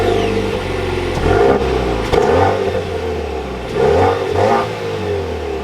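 A 2023 Chevrolet Camaro 2LT RS with a manual gearbox starts up and revs, its loud, close engine rising and falling in several surges over a steady rumbling idle.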